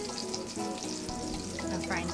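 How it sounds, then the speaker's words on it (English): Garlic sizzles steadily in a hot frying pan, a dense, continuous crackle that stays loud and close throughout with no voices over it. "I'm frying garlic."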